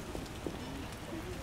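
Rain pours in the video game The Witcher, a dense steady hiss with a few soft taps and a faint tonal sound beneath it.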